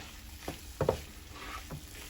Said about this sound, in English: I'm done frying my gizzard, so we are going to mix all of them together.